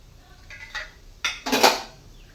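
Semolina tipped from a bowl into a pan of warm ghee while making rava coconut modak, heard as a few close metallic clinks and a brief scraping clatter of utensil against pan, with no talking.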